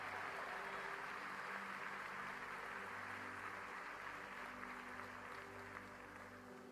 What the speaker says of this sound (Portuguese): Alguém pode dar um aplauso bem forte ao Senhor neste lugar?